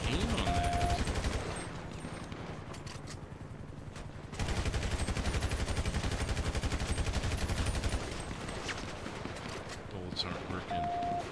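Rapid automatic gunfire rattles in the game GTA 5 during a police roleplay shootout, loud and sustained in long bursts with a short lull in the middle.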